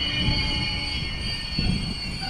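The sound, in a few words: train passing at Warszawa Toruńska station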